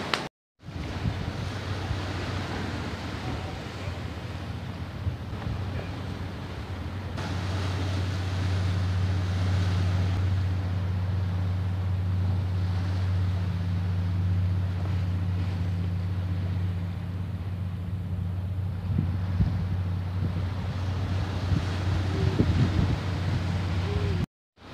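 Ocean waves wash against the base of sea cliffs with steady wind, making a continuous loud roar with heavy wind buffeting on the microphone throughout and no clear breaks.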